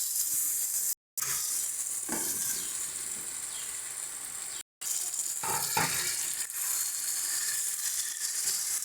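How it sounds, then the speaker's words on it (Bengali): Fried potatoes go into a pan of spices and water, setting off a loud, continuous sizzle close up, with a few scraping stirs and clatters of a utensil against the pan along the way. "এরপরে আমরা প্রথমেই যে আলুগুলো ভেজে তুলে রেখেছিলাম সেই আলুগুলোকে দিয়ে দেব"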